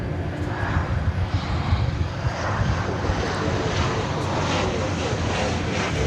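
A jet airplane roars at DFW Airport, a loud, broad, steady engine rumble that swells slightly and holds, heard from some distance outdoors.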